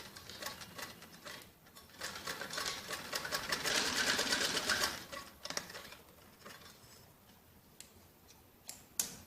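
A sewing machine stitching a jacket frock runs in rapid ticking bursts, swelling in the middle then stopping and starting with scattered clicks, fairly quiet and close with no talk.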